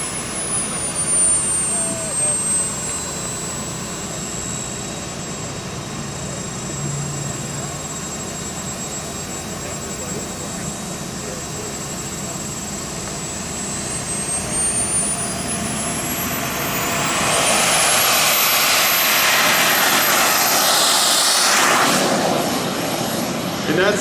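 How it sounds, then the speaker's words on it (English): A Carf Models F-100 model jet, kerosene-fuelled turbine, takes off at a model airshow, a steady far turbine whine and crowd noise building into a loud, close roaring rush near the end. "And that's the F-100 taking off."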